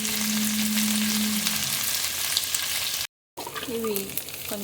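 Dried prawns frying in sesame oil give a steady close sizzle for about three seconds, then a brief silent break, after which the sizzle resumes with a few stirring sounds.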